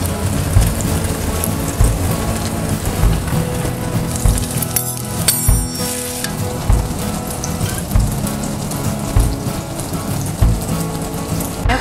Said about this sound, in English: Getting a nice sizzle.